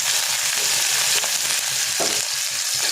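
Onions and green chilies frying in a pan with cumin seeds in oil, a steady close sizzle with stirring scrapes throughout and no talking.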